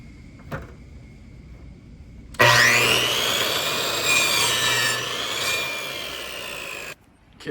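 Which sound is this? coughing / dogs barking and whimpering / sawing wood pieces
sawing wood pieces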